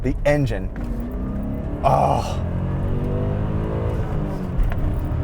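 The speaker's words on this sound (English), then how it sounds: "Oh, the engine is so healthy." A BMW E39 M5's engine runs with a steady, close mechanical drone and a brief rise in revs, while a man exclaims over it.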